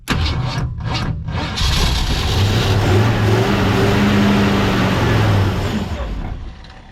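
An old Lincoln car with leaking carburetor bowls being cranked, the starter churning loudly and close for several seconds with a rough engine rumble that fades out at the end.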